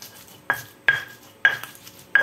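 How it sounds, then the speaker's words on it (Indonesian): Tempeh and chilies are pounded coarsely with a pestle, four sharp, ringing impacts at roughly even intervals, each with a brief metallic-sounding decay, close and clear with no talk. "Ini kita tumbuk kasar juga"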